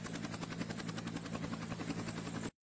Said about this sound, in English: Wow, that's a helicopter.